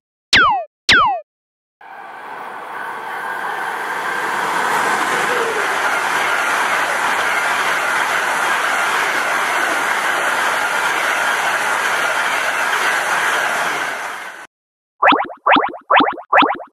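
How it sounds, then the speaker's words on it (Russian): A high-speed train roars past in one steady, loud rush lasting about twelve seconds, set between short bouncy chirp tones at the start and end. "Отлично! Это высокоскоростной поезд."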